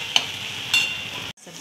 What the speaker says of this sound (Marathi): आता छान असं तेलामध्ये 2-3 मिनटासाठी परतून घ्यायचं आहे।